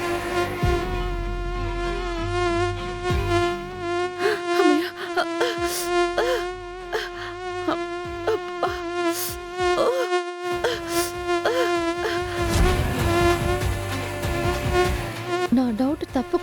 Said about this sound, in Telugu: దోమలు వచ్చేసినట్టున్నాయి